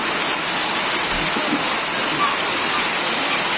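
Steady rain falls outside a house being demolished, a continuous even hiss that stays loud throughout with no breaks.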